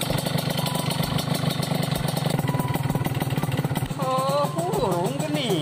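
A motorcycle engine runs steadily at idle close by, a constant buzzing drone for the whole stretch, with a voice speaking briefly over it near the end.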